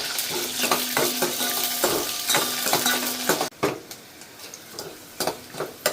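Onions and curry leaves fry in hot oil with mustard seeds in a pan for rasam, crackling and sizzling up close while a spoon scrapes and taps in irregular strokes; the sizzle thins out halfway through.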